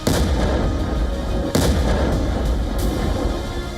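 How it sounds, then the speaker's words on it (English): Rumbling blasts from missile and air strikes hitting military compounds, a dense continuous roar with a sharp louder boom near the middle and further thumps, no voices. "Explosions ripple through military compounds as command centers and missiles bases are hammered from the air."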